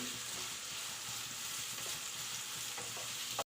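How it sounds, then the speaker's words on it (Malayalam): Egg semiya with capsicum is stirred in a pan over a high flame, giving a steady, continuous sizzle with soft scraping throughout and no talk. "നല്ലതുപോലെ ഇളക്കി കൊടുക്കുക നമ്മൾ ഹൈ ഫ്ലെയിമിൽ തന്നെ വെച്ചിരുന്നാൽ മതി"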